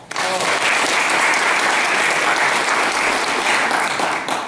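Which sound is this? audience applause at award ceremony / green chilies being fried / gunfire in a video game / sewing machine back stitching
audience applause at award ceremony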